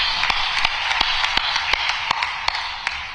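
A crowd at a political event in India claps steadily under a broad murmur, with a few sharp, close hand claps standing out in a loose rhythm.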